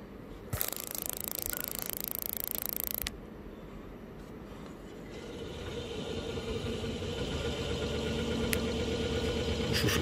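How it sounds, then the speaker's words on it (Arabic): On a Hall effect sensor test rig, a small electric motor starts and runs with a steady low hum and whine that slowly grows, following a brief loud broadband burst near the start. "فنشغل الموتور"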